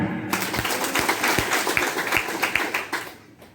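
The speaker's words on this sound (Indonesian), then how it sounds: "Terima kasih, tepuk tangan." A seated audience at the swearing-in ceremony for a candidate pair's winning campaign team claps, a run of sharp irregular claps at moderate distance that tapers off near the end, with faint background murmur.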